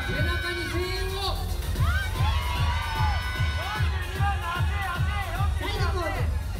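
A large crowd at a Best Body Japan fitness contest in Tokyo cheers and shouts loudly and continuously, with children's voices and whoops rising above the steady roar.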